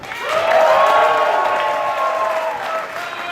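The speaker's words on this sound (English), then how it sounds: "how about a round of applause for all of our amazing volunteers and staff" An event audience applauds volunteers and staff, sustained clapping from a crowd, steady and fairly loud, with a voice heard faintly over it.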